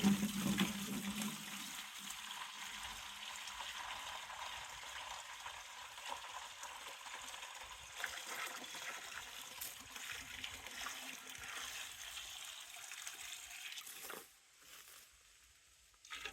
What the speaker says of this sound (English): So my nice dirty clay water.